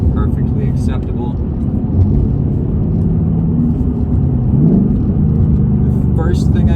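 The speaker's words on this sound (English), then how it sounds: "And I have the exhaust in track" A 2024 Ford Mustang GT with its 6-speed manual and active exhaust set to track mode rumbles steadily from inside the cabin, a loud, continuous low engine drone with speech faintly in the background.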